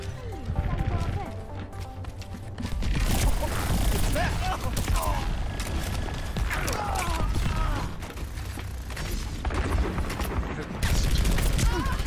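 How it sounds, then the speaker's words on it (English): A turret in Overwatch fires a rapid, steady stream of shots at a player. The gunfire runs through dense, busy game combat with mechanical clatter, crashes and voices. "He's also being shot by a turret."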